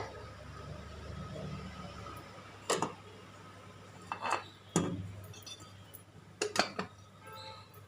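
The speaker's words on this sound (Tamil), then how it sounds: "இப்போ இந்த பவுலை ஏதாவது மூடி போட்டு மூடி விட்டுருங்க" A bowl set into an idli pot and covered with a lid, giving a few sharp metallic clinks and clanks spaced apart against a quiet kitchen background.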